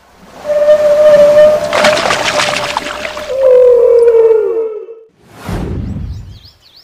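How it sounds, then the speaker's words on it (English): A whale calls with a long, steady tonal moan that bends into a falling sweep, followed by a brief rushing whoosh. The sound is loud and clear with no voices. "Whale."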